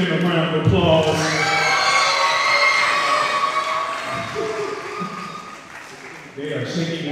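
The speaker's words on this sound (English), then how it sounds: "Keep giving them a round of applause" A live audience applauds and cheers for the performance poetry group Mayhem Poets, a loud, steady wash of clapping and shouts lasting several seconds, dipping briefly before swelling again near the end.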